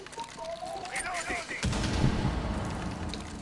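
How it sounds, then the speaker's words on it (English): Gunfire in the tactical shooter Rainbow Six Siege during a bomb round, heard as a dense burst of loud, rapid shots that swells into a sustained rumble midway and stays up close and continuous. "Don't know why someone's shooting, but they're shooting."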